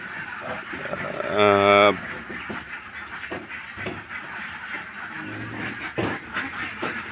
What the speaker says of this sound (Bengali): হাঁসগুলো জাস্ট ছাড়া হলো ফার্মের ঘর থেকে